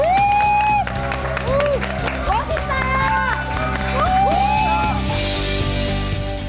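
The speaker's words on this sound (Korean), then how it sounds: "큰 박수" A lecture audience applauds and cheers loudly throughout, with whoops rising over the clapping and tonal sounds running beneath.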